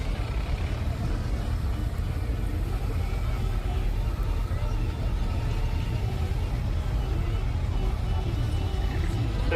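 A 3.5 litre V8 rebored to 4.3 litres drives down the arena at a steam fair, its engine giving a steady, low, rumbling drone throughout while a voice talks over it.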